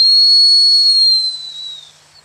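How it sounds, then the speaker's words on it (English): One long, steady dog whistle blast held for about two seconds and then fading, sounded alone as a draw command while training a springer spaniel to quarter a hunting pattern. "My whistle command for the draw is just a long whistle."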